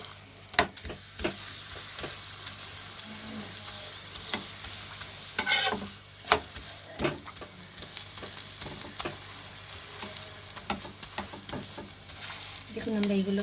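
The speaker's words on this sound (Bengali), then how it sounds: "দেখুন আমরা এইগুলোকে এইভাবে আস্তে আস্তে করে ভেজে নেব।" Aloo paratha frying gently in a pan, a soft steady sizzle with occasional stirring and scraping taps against the pan, fairly quiet and close.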